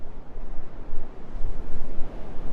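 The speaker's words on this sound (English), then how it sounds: "Ooh, the wind is picking up," Gusty coastal wind on the Ring of Kerry shore in Ireland, buffeting the microphone in loud rough bursts with a broad roar like surf, no voices.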